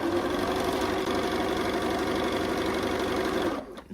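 A sewing machine running straight stitches in one continuous, loud, even mechanical whir with a rapid needle rhythm, stopping abruptly near the end.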